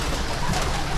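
A pigeon gives a soft, low coo once, close by, against a steady background murmur.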